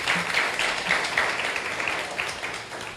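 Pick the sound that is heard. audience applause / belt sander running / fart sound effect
audience applause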